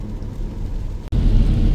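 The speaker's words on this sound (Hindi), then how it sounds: "तब से नॉन स्टॉप बारिश हो रही है और अच्छी तेज" Heavy, non-stop rain drums on a Kia Sonet during a road trip from Delhi to Manali, a loud steady wash inside the car with a brief dropout midway.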